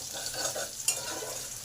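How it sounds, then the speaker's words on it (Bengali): Garlic fries and is stirred in a pan, a low steady sizzle with a faint utensil scrape and one brief clink. "রসুনটাকেও ভালো করে ভেজে নেব"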